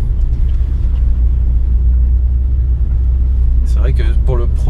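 A barn-find Maserati Biturbo driving on the road gives a steady, loud low engine rumble heard from inside the car, with a person briefly talking near the end.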